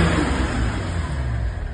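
A Range Rover P38 converted to an M57N diesel engine runs steadily nearby, a low continuous idle rumble with no voices.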